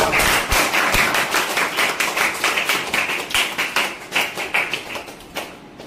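A crowd at a birthday greeting for a Tiger Group vice president in Dharangaon bursts into brisk, close applause, dense overlapping claps that gradually thin out and fade over several seconds.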